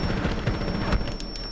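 Quick burst of gunfire from Ash's gun in a tactical shooter video game, a short run of sharp rapid shots with a heavier thump near the end, loud and close.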